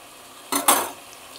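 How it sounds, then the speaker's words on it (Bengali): Elephant foot yam and potato pieces frying in oil over a raised gas flame, two brief bursts of sizzling and stirring close by, then a quiet hiss. "আগে প্রথমে ভেজে নিয়ে এগুলোকে, ওল আর আলুটাকে, গ্যাসটা বাড়িয়ে দিলাম।"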